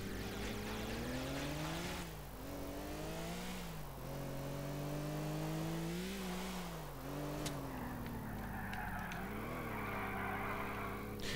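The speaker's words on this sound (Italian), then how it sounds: "Ci andiamo velocemente in macchina." A car engine drones loudly and continuously while driving in GTA IV, its pitch climbing and dropping through repeated revs and gear shifts.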